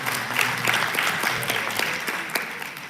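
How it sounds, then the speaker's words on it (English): Audience applause at a workplace safety and health commemoration event, a steady dense wash of many hands clapping close by throughout, with no talking. "to give a big round of applause"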